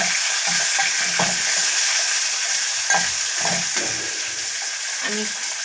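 Brinjal pieces sizzle steadily in a hot pan, a loud continuous frying hiss broken by repeated scraping strokes of a spoon stirring them.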